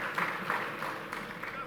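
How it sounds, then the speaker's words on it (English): Audience at the AMW Sydney 2024 Future Solutions speaker program applauding an introduction, with a brief burst of clapping and cheering mixed with speech. "Crowd goes wild."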